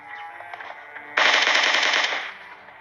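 Rapid automatic gunfire from a video game shootout, a long, loud sustained burst of fast shots following quieter scattered game sounds.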